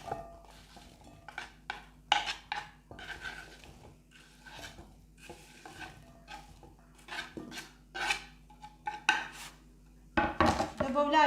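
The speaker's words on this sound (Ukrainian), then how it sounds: "Яблука я порізала, перекладаю окрему ємність." Sliced apple pieces scraped and dropped into a separate bowl while making charlotte, giving a run of close clinks, taps and knocks of utensil on dish, with a louder clatter near the end.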